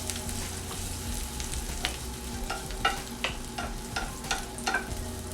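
Chicken sautés in a pan with a quiet, steady sizzle, punctuated by a series of distinct scraping and tapping strokes as it is stirred around.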